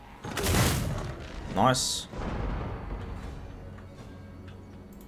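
Vampire Coast units open fire in Total War Warhammer 2, giving a couple of deep booming cannon blasts close together, followed by rumbling, with a short spoken word in between.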